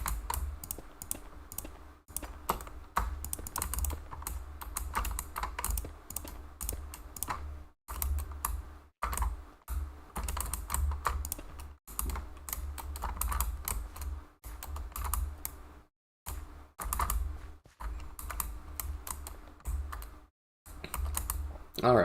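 Steady rapid typing on a computer keyboard, a continuous run of close clicks and key taps with brief pauses, faint voices occasionally underneath.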